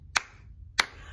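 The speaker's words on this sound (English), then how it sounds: "Now clap." Two crisp, separate hand claps land about half a second apart, keeping time with a children's song at a story time.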